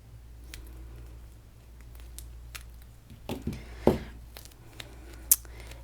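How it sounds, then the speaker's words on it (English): A piece of skate tape for figure skates is cut, a short cluster of crinkly snipping about halfway through against a quiet room, with a faint click afterward. "I'm going to cut myself a piece."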